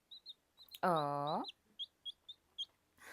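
A young chicken of unknown sex gives a soft series of high chirps, then one loud drawn-out squawk, followed by more short evenly spaced peeps nearby, with a brief voice exclaiming.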